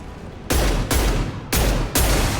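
Gunfire in the video game Mass Effect 2: loud, dense sustained volleys of rapid shots arriving in several back-to-back bursts with brief gaps between them.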